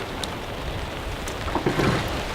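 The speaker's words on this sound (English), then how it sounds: "Rained out." Heavy rain pours down on a fishing outing, a dense, steady hiss of drops striking surfaces close by, with a few sharper spatters and no talking.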